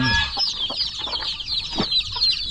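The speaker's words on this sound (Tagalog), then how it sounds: "3 po yung nagpisa sa mga manok natin, kaya ang dami natin sisiw ngayon." A hen clucks close by among newly hatched chicks, her low repeated clucks mixed with a steady stream of thin, high peeping from the chicks, with no talking.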